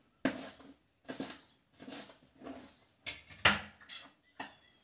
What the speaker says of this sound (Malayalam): പച്ചമുളക് ഇതേമാതിരി കട്ട് ചെയ്യുക